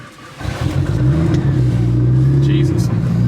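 A 1500 HP Nissan R35 GT-R street car's engine rumbles up and holds a deep, loud, aggressive rev, heard close from inside the car with a strong low drone and brief higher whines on top.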